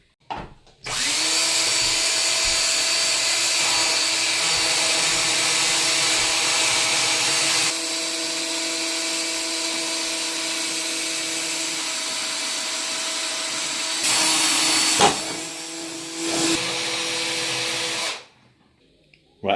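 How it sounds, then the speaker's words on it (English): A power drill bores holes into metal corner brackets for a caravan solar panel installation, a loud, steady high-pitched whine held for long stretches, briefly pausing and changing pitch before stopping. "I've now completed drilling in the whole 4 brackets, both sides."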